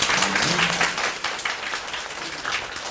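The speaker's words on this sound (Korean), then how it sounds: "유아 미디어 융합 영화제 2회를 큰 박수로 시작하겠습니다." Applause from an audience opening the second Ewha convergence media film festival: crowded clapping that starts strong and gradually thins over a few seconds, with a voice briefly audible beneath it.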